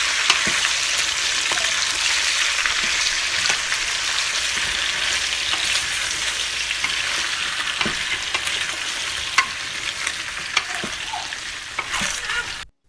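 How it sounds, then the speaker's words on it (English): Potatoes fry with cumin in hot oil, a loud, bright hiss that stays constant while a spoon stirs with occasional knocks and scrapes against the pan, ending abruptly. "now you know that it's ready for us to add our potatoes. Okay. And just stir that up."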